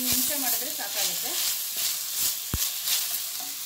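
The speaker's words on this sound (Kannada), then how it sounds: "ಇದು ಒಂದು ನಿಮಿಷ ಈ ಥರ ಎಣ್ಣೆಲಿ ಫ್ರೈ ಹಾಕಬೇಕು" Onion and capsicum frying in oil for egg fried rice make a continuous close sizzle with sharp pops and stirring clicks, while a voice talks over the start.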